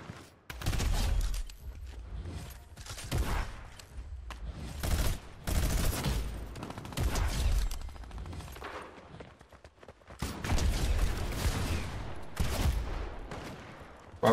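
Pump shotgun blasts in Fortnite, a series of loud, separate booming shots spaced a second or two apart with brief mechanical clatter between them, no talk.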